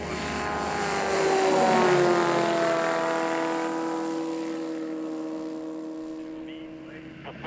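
A light propeller aircraft at an aviation village revs up and accelerates down the runway, its engine drone loud and steady with rising, shifting tones before fading slightly as it pulls away.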